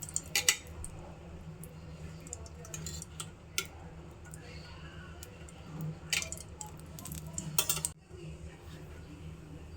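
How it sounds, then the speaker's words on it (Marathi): A pan is handled on a kitchen stove as a little oil goes in, making quiet, scattered clinks, taps and light scrapes of metal. A soft voice sounds faintly in the background. "आता सर्वात आधी आपण पॅन घेतला आहे आणि आपण आता त्याच्यात थोडंसं तेल टाकूया।"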